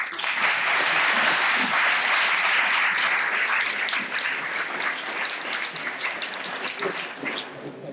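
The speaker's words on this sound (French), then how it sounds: "je vous demande ensuite d'applaudir Alexandre Joly" A ceremony audience marking twenty years of the DQPRM applauds Alexandre Joly with steady, dense clapping that holds strong for about eight seconds and eases slightly toward the end.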